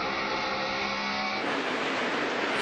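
A NASCAR race car spins its wheels in a loud, continuous roaring rush of tire and engine noise that shifts in tone about halfway through.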